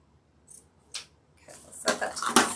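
Scissors snip ribbon for a Halloween skull wreath, a couple of faint separate cuts followed by louder, denser snipping and rustling up close.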